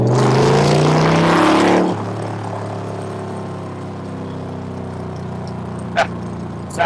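A 1967 Chevrolet Corvette roadster cruising down a freeway, its engine note steady and fairly loud for the first two seconds, then dropping to a low, distant drone with a couple of brief sharp noises near the end.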